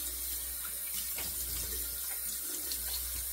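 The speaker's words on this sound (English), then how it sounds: "All right, so we're gonna rinse that off." Tap water runs steadily while a 3D-printed Superior Cuts double-edge safety razor is rinsed, a continuous close hiss and splash at an even level throughout.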